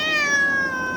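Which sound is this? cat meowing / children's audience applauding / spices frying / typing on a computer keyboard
cat meowing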